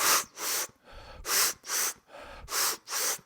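Rapid fire breathing exercise: forceful, rhythmic nasal breaths in quick succession, six sharp loud exhalations with brief softer inhales between, close and alone.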